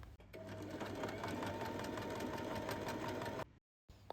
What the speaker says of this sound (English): fold the connector by the long edge in half and sew the pinned area